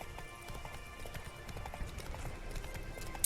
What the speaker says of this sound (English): right now I'm riding the horse